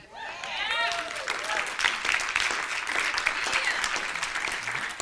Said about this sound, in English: That's the most claps we've had.